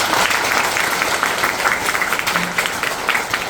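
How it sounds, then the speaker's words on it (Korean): Steady crowd applause, dense and fairly loud, with many hands clapping at once and a faint voice briefly underneath. "정말 한번 큰 박수 부탁드려요."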